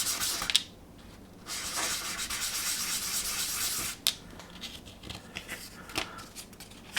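Fine-grit sanding on an MPC 1/24 scale General Lee model car body: close, soft rasping strokes in short bursts, with a sustained stretch of steady rubbing followed by quieter, intermittent scrapes and taps, no voices.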